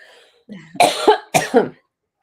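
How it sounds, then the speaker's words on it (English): Two quick, close coughs, each a short harsh double burst, loud and near, then silence. "Sorry, I got a cough."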